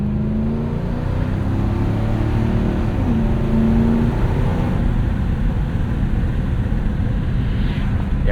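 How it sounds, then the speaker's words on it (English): A 1998 Lexus GS 400 V8 fitted with a Megan catback exhaust revs, its deep, loud exhaust drone holding steady with swelling and easing pitch for about eight seconds, no voices over it. "some more idea for the way this Megan exhaust sounds"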